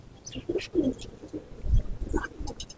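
Pigeons coo in a loft with soft, low, throaty calls spread over a few seconds, some faint chirps and rustling around them.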